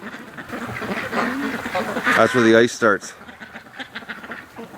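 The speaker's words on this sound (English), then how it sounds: "that gorgeous, handsome looking male duck we have, the crossbreed" Muscovy ducks, including a crossbreed male, give a few raspy quacks and honks close by, partly under someone talking outdoors near ice.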